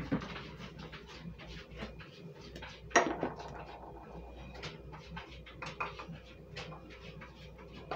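Dry ingredients for a chocolate loaf cake are mixed in a bowl, giving soft, irregular scraping and tapping with one sharper clink, fairly quiet and close.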